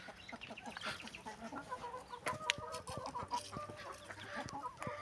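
A hen clucks in short, soft repeated calls, close by amid other fowl murmurs and a few sharper squawks, low in level with no talk.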